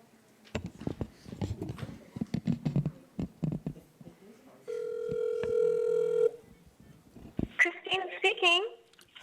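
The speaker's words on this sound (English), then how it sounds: "let me give Ms. Schwartz a call now." A telephone call placed during a public meeting: a few dialing beeps, then a steady ringback tone for about two seconds, bracketed by clicks and handling noise before and a brief burst of chatter after.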